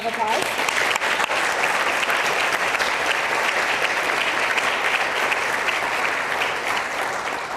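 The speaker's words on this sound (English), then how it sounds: "let's just give all of them a round of applause" A large audience at an awards ceremony applauding, dense sustained clapping at an even level from start to finish.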